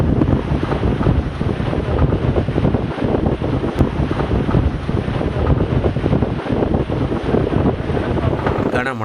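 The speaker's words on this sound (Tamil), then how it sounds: "நாகை மாவட்டத்தை ஒட்டி டிட்வா புயல் கடந்து சென்றபோது பாப்பாகோயில், புத்தூர், நரியங்குடி சுற்றுவட்டார பகுதிகளில் மணிக்கு 50 கிலோமீட்டர் வேகத்திற்கு மேல் சூறைக்காற்று" Strong gusting winds of Cyclone Ditwah, above 50 km/h, batter the microphone near the coast of Nagapattinam district in Tamil Nadu, a loud continuous roar with heavy buffeting that carries throughout.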